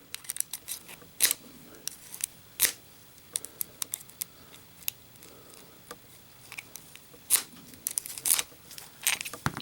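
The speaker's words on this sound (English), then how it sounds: "then I'm going to try to rake it open." A lock pick rakes a Brinks R70 lock, giving close, scratchy metallic clicks and rasps in quick, uneven bursts with brief pauses between them.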